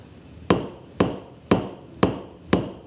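A hammer strikes a metal jewelry blank resting on a relief block: five sharp, ringing taps in a steady rhythm about half a second apart, close and clear with no talking.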